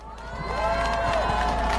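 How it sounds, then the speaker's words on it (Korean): A crowd at a political rally in Daegu cheers and applauds, rising into a loud, steady roar of shouts and clapping that fills the short stretch. "사랑스러운 우리의 후보들에게 박수와 함성 부탁드리겠습니다."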